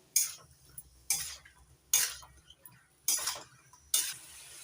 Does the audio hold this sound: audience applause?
no